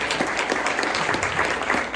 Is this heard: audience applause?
yes